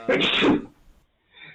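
One loud, close sneeze bursting out, followed by a short quiet moment and faint sound.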